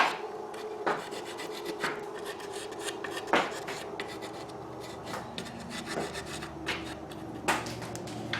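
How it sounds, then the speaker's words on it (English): Charcoal is rubbed back and forth across a wooden board for a deer antler European mount plaque, giving repeated rasping, scratchy strokes up close with no talking. "you can kind of rub it around and get it to where it fills in most of the light color"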